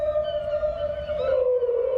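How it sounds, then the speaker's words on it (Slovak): In a cartoon, a whale sings a long, sustained moaning tone that slowly slides lower near the end, loud and clear against a soft background, with no voices. "Spev veľrýb. Veľryba kdesi v morskej diaľke volá svoje družky."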